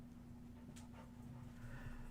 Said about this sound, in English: dogs have made their appearance